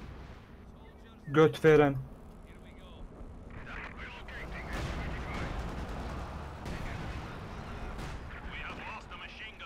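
Artillery shells pounding a base in Company of Heroes 2 on the Lienne Forest map, a sharp double blast near the start followed by a continuous rumble of distant battle noise, with voices talking over it.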